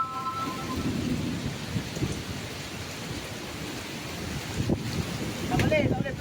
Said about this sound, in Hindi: अभी भी हो रही है बारिश लेकिन हल्की है।